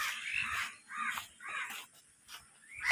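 A crow caws repeatedly near a village pond in Bogura, Bangladesh, four or five hoarse, fairly close calls spaced about half a second apart.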